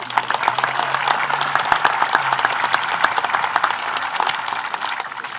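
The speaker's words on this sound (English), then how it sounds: "You can applaud for that." A high school graduation audience applauding at a commencement ceremony, a dense crowd of hands clapping steadily and loudly through the whole stretch in a large hall.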